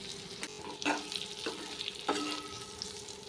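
Brinjal pieces sizzle softly in a pan, with a few louder scraping stirs of a spatula breaking through the steady frying hiss.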